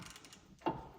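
Icon G2 half-inch drive ratchet working on a 2017 Chevy Equinox front hub, giving one short, sharp mechanical click over a quiet shop background.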